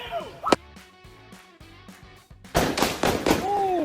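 Sharp gunshots crack out in recorded street footage, one isolated report followed by a rapid burst of several more, loud and echoing, with voices shouting around them.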